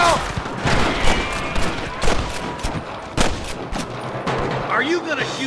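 Gunfire at rustlers in Red Dead Redemption: rapid, loud cracking shots in irregular bursts over a busy outdoor game scene, with voices shouting in between.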